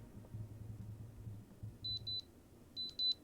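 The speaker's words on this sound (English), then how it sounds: "It makes a beeping noise." Two short bursts of quick, high electronic beeps from Soundcore by Anker earbuds playing a find-my-device sound, fairly faint against a quiet background hum.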